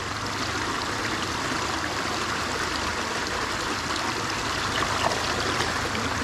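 A small trailside stream of water flows and trickles steadily along the Appalachian Trail, a close, continuous burbling wash with no voices over it.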